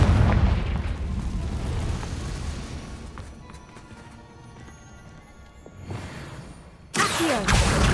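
A Confringo spell blast in Hogwarts Legacy, a deep booming explosion with a rumbling tail that fades, then a second loud burst erupts near the end, with no talk.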